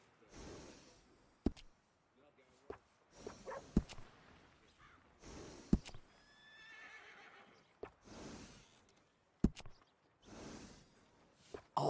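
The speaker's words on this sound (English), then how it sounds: "This horse is one of the finest you can get." A horse in the video game Red Dead Redemption 2 neighs and whinnies repeatedly in loud, separate bursts, with snorts and sharp clicks between them and no talking.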